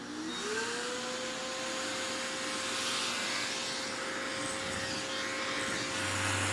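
An electric pet grooming clipper hums steadily at close range as it trims a Mini Goldendoodle's coat, a constant motorized buzz that holds level for several seconds with no talk over it.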